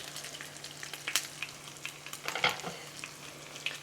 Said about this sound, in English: we're going to fold it in half and fry it till it's nice and crispy